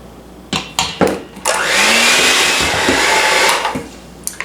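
An electric hand mixer beats frosting as powdered sugar goes in. A few clattering knocks come first, then about two seconds of steady, loud whirring that stops abruptly, followed by more clunks. No one talks.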